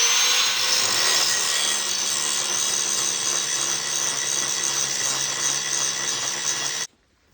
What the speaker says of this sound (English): grinding.